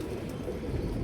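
A soft, low pigeon coo murmurs briefly amid faint background noise.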